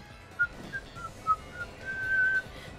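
A person whistles a loose tune during a Pokemon Legends: Arceus game stream, with several short breathy notes followed by a longer held phrase, close and fairly soft.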